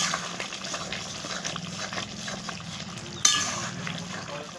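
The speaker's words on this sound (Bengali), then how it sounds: "এবার এটাকে জাস্ট কষানো হবে, জল আর থাকবে না, এবার জলটাকে পুরো শুকিয়ে দিতে হবে।" Chicken bhuna sizzles in a pan as the liquid is cooked off, with a soft bubbling fry, spoon scrapes and stirring clinks, close up and moderately loud, ending in a sharp metallic clatter.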